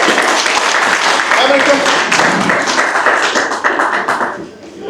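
Workshop attendees at a parks and recreation planning meeting applaud a group, with several people clapping at close range through most of the stretch and voices murmuring beneath before the applause fades out.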